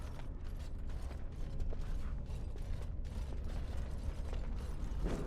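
A trap mechanism in the video game Dragon Age Origins grinds and creaks continuously, a dense low rumble with ratcheting clicks held at steady loudness throughout.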